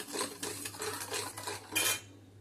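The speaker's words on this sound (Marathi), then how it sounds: "चांगलं हलवून घ्यायचं आपल्याला" A spoon stirs two spoonfuls of sabja seeds into a lemon juice drink, clinking and scraping against the container in quick close strokes, ending with a brighter rattle before fading.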